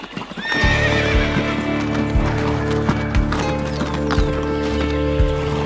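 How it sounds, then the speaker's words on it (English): Brumby wild horses gallop with steady, loud hoofbeats, and whinnies and neighs ring out over the running herd throughout. "horses range from their powerful 45 km/h gallop to the 20 km/h canter, the 15 km/h trot"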